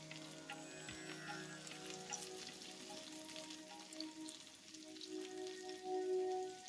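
Onions frying with garlic and ginger in a pan for a Thai cashew chicken stir-fry, a soft, steady sizzle with faint crackles and occasional clinks, fairly quiet and with no talking.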